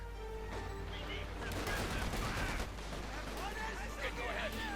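Gunfire crackles in a Company of Heroes 2 real-time strategy battle, with .50 caliber machine gun bursts and grenades amid a dense wash of overlapping shots and explosions, continuous and busy throughout.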